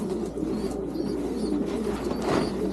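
Pigeons in a breeder's loft holding young birds, giving a steady low murmur of cooing that runs throughout at moderate loudness, with no talking over it.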